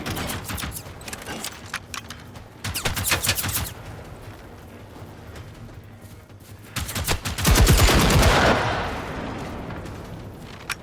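Light machine gun fire in the video game Generation Zero: several sustained automatic bursts, loud and close, separated by short pauses, with a long final burst that trails into echoing reverberation.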